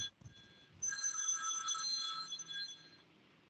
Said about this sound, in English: there is a phone ringing